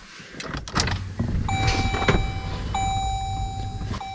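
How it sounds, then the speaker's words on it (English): Electric fuel pump of a car whirring steadily after the ignition is switched on with the engine off, a close, sustained whine of moderate loudness following a few clicks and clunks. "I can hear the fuel pump running."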